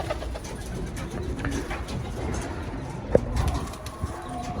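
Pigeons coo softly at a loft, a low murmuring call repeating through a light outdoor background, with a brief sharper sound near the middle.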